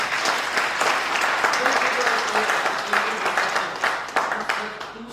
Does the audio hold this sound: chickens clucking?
no